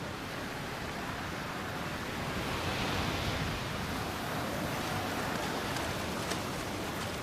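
Ocean surf pounds the Namib desert coast in a continuous loud roar, with a slight swell in the middle and no voices.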